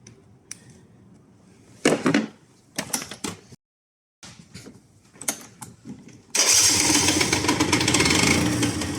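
A Neco GPX 50cc two-stroke moped with a fault is kicked and cranked in short bursts, then its engine catches and runs at a steady, loud, raspy idle.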